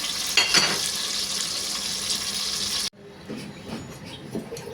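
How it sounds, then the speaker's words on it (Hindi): Onions fry in a pan for a chicken aloo saalan: a steady, close, hissing sizzle that cuts off abruptly partway through and resumes as a quieter crackle. "प्याज को हम पकाते हैं, इसको हम इसमें पका रहे हैं।"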